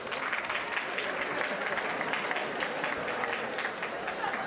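Sustained applause from an audience at a comedy performance, dense and steady clapping throughout with no pauses, fairly even in loudness from start to finish.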